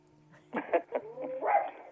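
A dog gives a short run of yelping, whiny barks, a few quick sounds followed by a longer drawn-out whimper, fairly close and on its own.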